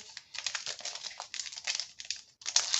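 Packaged envelopes being handled, with dense crinkly rustling of plastic wrap and paper coming in close, busy bursts with brief pauses over about three seconds.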